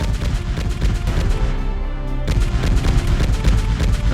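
A spaceship gunner turret fires at attacking fighters in an audio drama, dense repeated loud bursts and booms layered over a rumbling bed with a brief lull midway.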